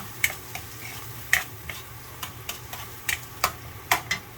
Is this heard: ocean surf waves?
no